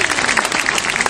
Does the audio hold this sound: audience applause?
yes